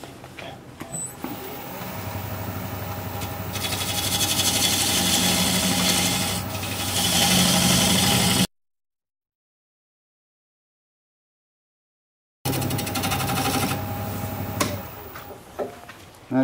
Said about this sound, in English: I'm going to switch to a skew chisel to create the dovetail necessary for my chuck